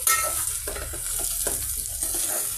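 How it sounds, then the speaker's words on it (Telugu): Okra pieces with salt and turmeric cooking in a pan over a low flame for a ladies finger and tomato curry, giving a soft steady sizzle with occasional stirring clatter close by. "ఒక 2 నిమిషాల పాటు లో ఫ్లేమ్ మీద ఈ భెండి పీసెస్ని ఇలాగే మగ్గనిద్దామండి"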